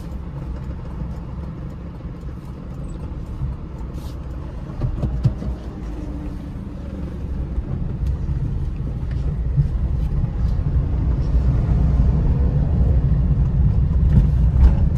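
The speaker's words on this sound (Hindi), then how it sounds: "अब चलते हैं इसका छोटा सा टेस्ट ड्राइव में और देखते हैं गाड़ी चलने में कैसा है।" Maruti Celerio VXI petrol car on a test drive, heard from inside as a low, steady engine and road rumble that slowly grows louder, with faint knocks and rattles.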